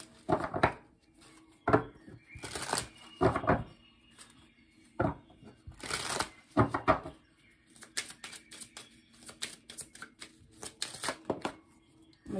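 Kipper cards are shuffled for a reading in a series of quick riffling, flapping bursts separated by short pauses, close and moderately soft.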